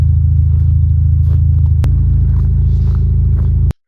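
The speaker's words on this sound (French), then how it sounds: "Maintenant que la voiture a réchauffé, ça c'est comment elle sonne sans rien dessus." A warmed-up car runs with no exhaust pipe fitted, giving a loud, deep, steady rumble close by that cuts off abruptly near the end.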